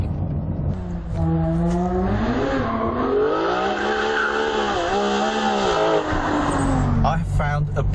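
A Ferrari 599 GTO engine revs and accelerates, rising and falling in pitch with a hard, loud wail that holds for several seconds before a sharp shift near the end.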